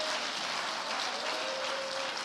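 Congregation clapping together during a church service, a steady dense wash of applause holding at even loudness throughout, with a faint sustained tone running beneath it.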